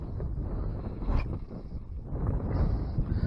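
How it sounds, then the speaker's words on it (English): Strong wind buffets the microphone outdoors on open winter water while fishing for bass, a low rumbling gusty roar that swells and eases throughout, with no talk. "It's pretty windy."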